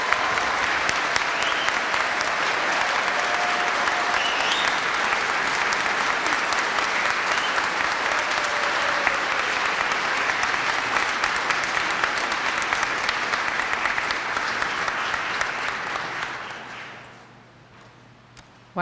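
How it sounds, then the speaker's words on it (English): An audience at an awards ceremony gives prize winners a long, steady round of applause, dense and sustained for most of the stretch, then tapering off quickly near the end. "Would you please give all of our prize winners another round of applause?"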